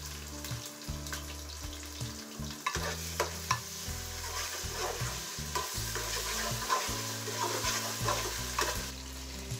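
Ginger garlic paste frying with onions in a pot for mutton nihari, a continuous sizzle broken by repeated scraping stirs of a spoon, close and steady.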